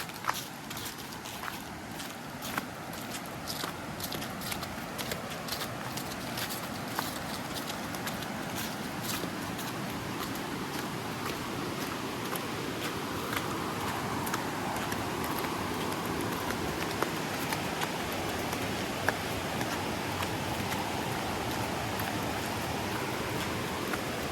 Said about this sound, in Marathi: खाली पाण्याचा आवाज आतापासूनच येतो एकदम